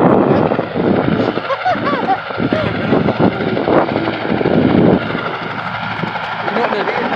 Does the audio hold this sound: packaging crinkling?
no